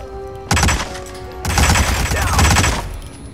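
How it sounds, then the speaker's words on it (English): Assault rifle fire in the Hitman 2016 video game: two loud bursts of rapid automatic shots, a short one then a longer sustained stream, close and dominant with no talk. "I am far less accurate with fucking, gun-toting fucking assault rifles."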